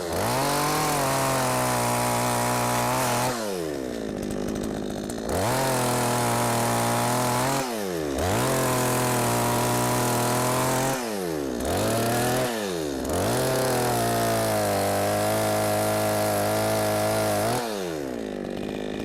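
A chainsaw trims branches off a tree beside a farm combine, the engine revving hard and dropping back repeatedly in four long cuts with brief idling dips between, loud and close with no talk.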